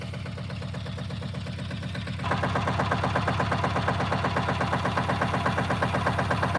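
A small ATV engine idles steadily nearby, its rapid even chugging growing louder partway through and holding a constant rhythm.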